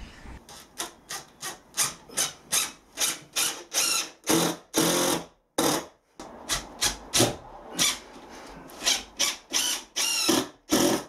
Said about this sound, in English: I'm just screwing it into place using 50 millimeter